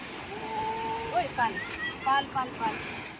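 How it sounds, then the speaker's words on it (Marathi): Big sea waves rolling in at Srivardhan beach, a steady windy surf roar close by with people talking over it. "खूप मोठ्या मोठ्या लाटा येऊ राहिल्या"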